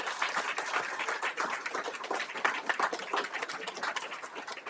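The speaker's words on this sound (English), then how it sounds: "One more round of applause, please, for everyone." An awards-ceremony audience applauding, a dense, steady wash of many hands clapping together that holds evenly for several seconds at moderate distance.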